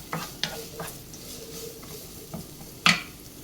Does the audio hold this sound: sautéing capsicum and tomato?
yes